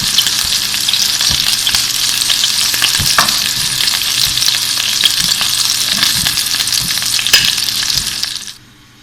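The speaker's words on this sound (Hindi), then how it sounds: "हर तरफ से अच्छी तरह पक चुके हैं, फ्राई हो चुके हैं।" Beef gola kebabs fry in hot oil with a loud, steady, dense sizzle and occasional bubbling pops, close up, then the sound cuts off abruptly near the end.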